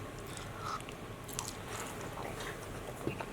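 Someone bites into and chews a hot link sausage at close range, giving soft wet crunches and squishes over a faint room hum, with no talking.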